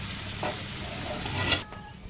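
Dried prawns fry in hot oil for a cucumber curry, a dense continuous sizzle up close that cuts off abruptly near the end.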